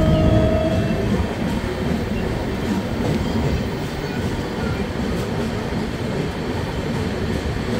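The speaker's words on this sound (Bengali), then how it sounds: "একদম জঙ্গলের ভেতর দিয়ে কিন্তু ট্রেন যাচ্ছে" The 13150 Kanchankanya Express rolls through jungle, heard from inside a 3AC coach as a steady, loud rumble with faint rhythmic wheel clatter and a brief squeal at the start.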